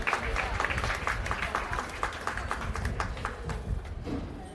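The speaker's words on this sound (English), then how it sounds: "we would please give those exhibitors a big round of applause" At a county fair swine show, a crowd's clapping for hog exhibitors rises in a steady, moderately loud wash, with livestock shuffling and possible talk mixed beneath it.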